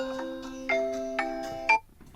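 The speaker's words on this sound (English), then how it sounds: "Let's see the alarm volume." A Google Pixel 8a alarm tone plays a bright repeating melodic pattern of steady pitched notes, fairly loud and close, ending abruptly after about two seconds.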